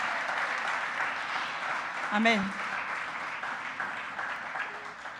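A church congregation applauds for the Lord in a continuous bed of clapping throughout. A voice briefly speaks over it midway, then the clapping carries on at steady moderate loudness.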